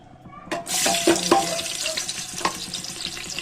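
Oil hissing and crackling in a pressure cooker, with a couple of sharp metallic clinks early on, then a steady sizzle.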